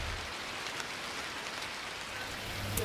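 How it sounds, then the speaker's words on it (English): Heavy rain bucketing down around a paddle steamer on the Murray River, a dense, steady hiss of pouring water with no pauses, fairly faint and even throughout, no voices. "The rains are here. It's bucketing down."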